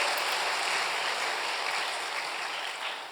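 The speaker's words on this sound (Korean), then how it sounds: "박수 한번 치겠습니다" A church congregation at a new-life festival service claps together in a dense, steady wash of applause that holds and then slowly fades.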